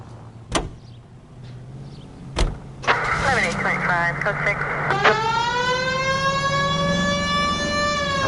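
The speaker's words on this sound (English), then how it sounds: "We have a siren." A police siren winds up and wails loudly with rising and falling sweeps, after a couple of sharp thuds and an engine rumble.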